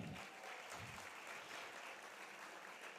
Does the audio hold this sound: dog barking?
no